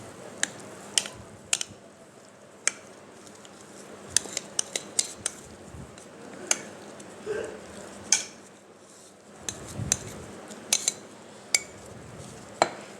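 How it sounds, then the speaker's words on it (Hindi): Basbousa batter scraped and spread into a mould, with sharp clicks and taps of a utensil against the tin scattered through low, soft scraping, close and fairly quiet, with no talk. "अब मैं ये सारा बैटर इसमें डाल के इसको सेट कर लूँगी।"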